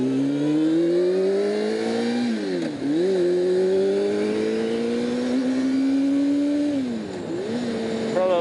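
Motorbike engine accelerating hard while overtaking a car on the road, a loud continuous whine rising in pitch, dipping briefly twice as gears shift, then climbing again, steady and close throughout.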